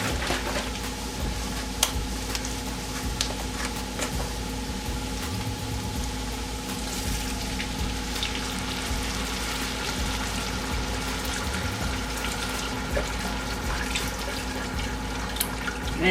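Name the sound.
bone broth poured into pot to deglaze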